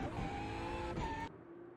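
A BMW race car engine in a racing video game screams at high revs with a steady harmonic whine, then cuts abruptly to a quieter low hum near the end.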